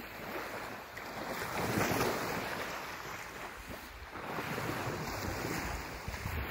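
Waves washing onto a bay beach at Cape May at night, a steady broad rush of surf swelling and easing, mixed with wind buffeting the microphone, with no voices.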